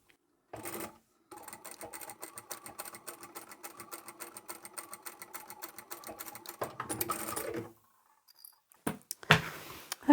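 Sewing machine back stitching the lining of a double-sided zipper pouch made from scrap fabric, running in a steady close rapid rattle for several seconds, then a pause and short bursts of handling near the end.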